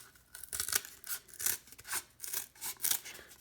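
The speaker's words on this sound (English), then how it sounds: "I cut in from the other side." Cardboard being cut by hand for a homemade cardboard speaker, heard as a series of close, rasping strokes in an uneven rhythm of about six bursts, with no talking.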